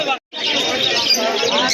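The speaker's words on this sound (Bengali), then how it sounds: "তো বন্ধুরা দেখে নাও এখানে কত কত পাখি রয়েছে, বিভিন্ন প্রজাতির পাখি বিননগর হাটে" Pigeons and other caged birds at a busy bird market fill the air with dense, loud overlapping chirps and coos, briefly cut off at the start, with a crowd murmuring beneath.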